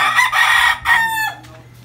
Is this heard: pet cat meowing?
no